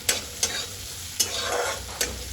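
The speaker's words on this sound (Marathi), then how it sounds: "चांगले लालसर होईल तोपर्यंत मी आता कांदा परतवून घेतलेला आहे" Onion frying in a pan until reddish, a continuous close sizzle with four or five crisp scraping stirs at uneven intervals over a couple of seconds, no talking.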